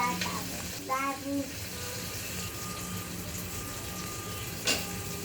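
Green chilies hit hot oil in a frying pan, giving a steady sizzle and frying crackle with brief stirring and liquid sounds. A sharp burst comes near the end. No one speaks.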